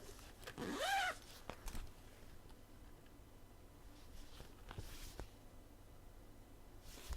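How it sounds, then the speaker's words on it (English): Zipper pull on a handmade fabric pouch, a short rasping zip near the start followed by faint handling taps and rustles, quiet and close with no talk. "Again, with the zipper pull."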